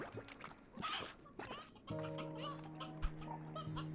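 Hens and a rooster in Slime Rancher 2 cluck and squawk in short bursts at close range, and a steady humming tone from the game's ambience joins midway under them.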